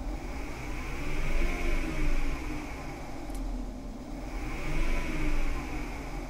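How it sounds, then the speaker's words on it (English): An electric Volkswagen Bus conversion running on a final test, giving a steady motor whir and hum with gentle rises and falls in pitch, fairly quiet and without any voices. "I've got the car turned back on and we'll test it out."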